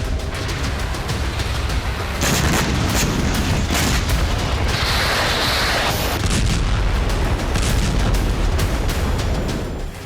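Dense, continuous booming blasts from missile strikes on the Ukrainian city of Dnipro, with loud overlapping explosions and rumbling bursts filling the whole stretch and no voices.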